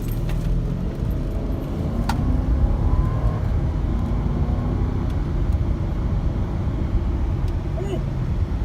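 A 2013 Mercedes GL450 SUV accelerates at half throttle, heard from inside as a steady, loud engine and road roar that holds for several seconds.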